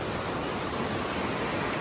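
Swollen river after heavy rain in a village, water rushing steadily as a dense, unbroken roar close by, with no voices over it.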